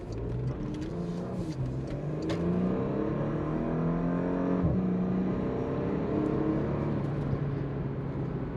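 A 2021 Porsche Macan S V6 in sport mode revs and pulls through PDK gear changes, rising engine tones heard from inside the cabin, with a couple of sharp exhaust pops and crackles.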